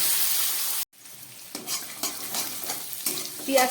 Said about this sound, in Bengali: এবার দিয়ে দিচ্ছি কেটে রাখা পেঁয়াজ